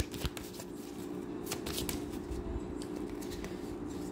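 A deck of oracle cards is shuffled and riffled close up, giving a steady papery flutter with sharp snaps and slaps as one card is drawn.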